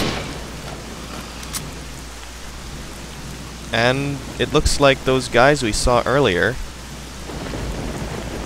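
Rain and thunder from the video game STALKER, a constant hiss of steady rainfall with a low rumbling undertone, while someone talks briefly over it midway.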